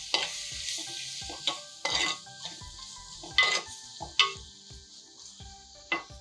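Tomatoes fry in a pan with a steady sizzle, punctuated by several sharp scrapes and knocks of a spoon stirring against the metal, close and clear with no talking.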